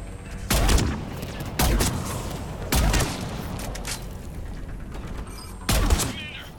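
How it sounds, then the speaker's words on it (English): Mortar blasts and gunfire in a Mass Effect 3 battle against Cerberus: four heavy, booming impacts at uneven gaps, each trailing a rumble, over a constant background of distant combat noise. "Commander, we're getting a lot of mortar fire."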